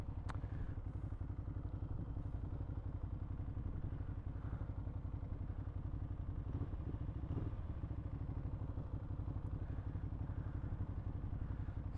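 A 2013 Ducati Hyperstrada motorcycle engine runs with a steady, even drone and rattling mechanical clatter, heard from the rider's position while on the move, with no clear rise in revs.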